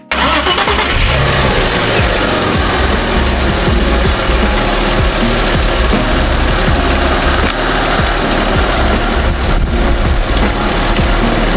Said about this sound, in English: I started the engine to let the water circulate better around